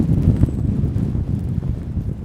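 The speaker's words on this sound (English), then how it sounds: "Man, it is windy today." Strong wind buffets the microphone on a Manhattan street on a chilly January afternoon, a steady low roar with gusty swells that runs through the whole stretch with no talking.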